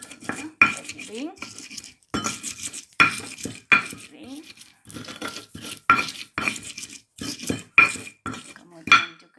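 Spice paste with shrimp is ground in a kitchen, giving repeated loud scraping and knocking strokes in an uneven rhythm, close and clear, with no talk over them.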